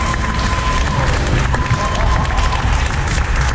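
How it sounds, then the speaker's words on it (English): A crowd cheers and applauds Papa Roach at a press conference at Hellfest 2023, a dense steady wash of clapping and shouts with a voice briefly rising above it. "Des applaudissements pour Papa Roach, s'il vous plaît."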